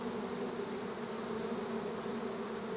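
A swarm of agitated honey bees buzzes around an opened hive during an overdue, smoked inspection: a dense, steady, droning hum, close and continuous throughout.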